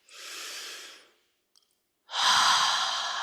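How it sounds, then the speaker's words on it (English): Nasal inhalations, heard close up: one soft breath in, a short pause, then a longer and louder intake through the nose. No speech. "And breathing in through the nose"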